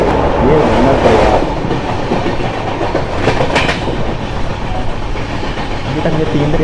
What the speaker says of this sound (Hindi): वाकई ये नदी बहुत ही विशाल है और इसे क्रॉस करने में हमारी ट्रेन को काफ़ी वक्त लग गया।